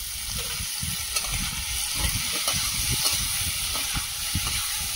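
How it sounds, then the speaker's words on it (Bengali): Okra frying in a pan of hot oil, a steady close sizzle and hiss with scattered pops and crackles throughout, no voices. "ভেন্ডি ভালোভাবে ভেজে নিয়েছি"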